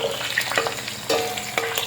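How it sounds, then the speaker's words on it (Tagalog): Garlic and onion sizzle in hot oil in a pan for chicken with pineapple, a close, bright crackling fry broken by stirring scrapes and clatters. "So ayan, gigisa na natin ang bawang sibuyas."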